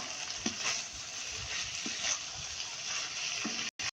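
Capsicum and onion sizzle steadily in a pan as spices are stirred in, with a continuous fry hiss and periodic soft scraping strokes of the stirring spoon.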